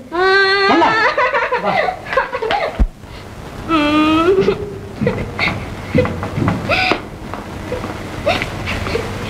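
A baby cries in a Tamil comedy scene, loud wailing and sobbing in repeated bursts with a brief break partway through, close and dominant, with other noises mixed in.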